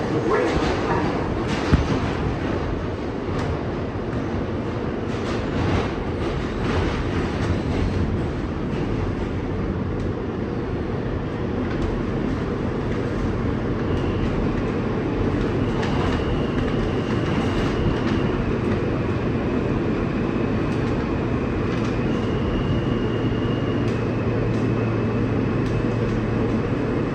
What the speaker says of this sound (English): This is a Manhattan-bound E local train.